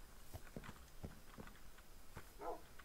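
A horse in a stable in the video game Minecraft, with a series of soft, irregular hoof clip-clops spaced apart at low volume, and a brief snort or whinny near the end.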